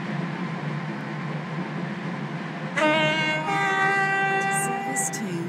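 A four-coach train in Stepford County Railway rolling along with a steady rumble, then a bright multi-tone horn or chime sounding partway through and holding, with faint speech.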